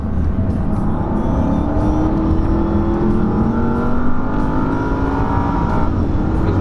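A race car at the Sepang circuit during an Asian Le Mans event drones past with a loud, steady engine note that slides gradually in pitch, a continuous close roar with no talk over it.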